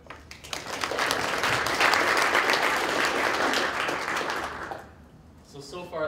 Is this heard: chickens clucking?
no